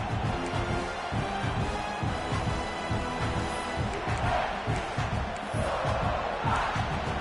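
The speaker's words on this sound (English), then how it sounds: "This crowd, full throat, splitting the eardrums and letting them know it's going to be a long day." A football stadium crowd at a South Carolina versus Purdue game roars loudly and steadily, a dense wall of cheering and shouting that never lets up throughout.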